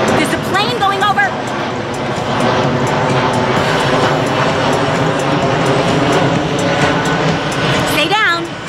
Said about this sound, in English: There's a plane going over.